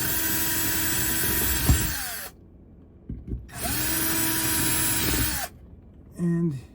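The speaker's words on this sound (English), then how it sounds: "I am desperately hoping that I'm not drilling through anything important underneath here" Power drill boring pilot holes for a phone mount inside a Ford Maverick cab, two long close whining bursts separated by a pause, with a short higher buzz at the end.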